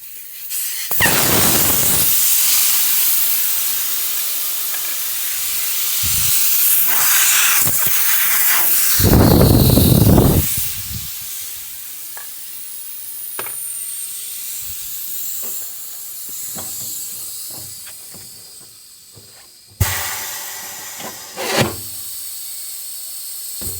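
Air hisses loudly out of a lowrider's wire-rim tire with the valve core pulled, a strong steady rush that swells and fades in bursts, broken by brief handling clatter and a couple of sharp knocks near the end.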